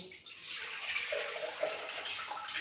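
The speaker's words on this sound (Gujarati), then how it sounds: "દાળને ધોઈ અને આ પાણી અહીંયા આપણે ચોખ્ખું જ પાણી ઉમેરેલું છે" Clean water pours steadily into soaked lentils in a pressure cooker, a continuous splashing rush with small gurgles, close by and without voices.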